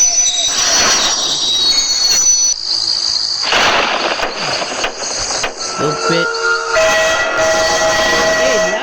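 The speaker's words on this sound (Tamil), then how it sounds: "உன்னோட ட்ரெயின் சத்தெல்லாம் கேட்குறா" A train in the video game Spider Train rumbles along with squealing wheels and a steady mechanical drone, and a voice talks briefly over it.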